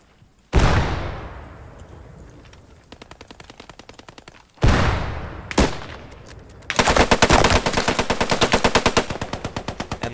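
Gunfire in the WWII shooter Post Scriptum, with two loud single shots that ring out into a long echoing decay, followed by a sustained rapid burst of automatic fire.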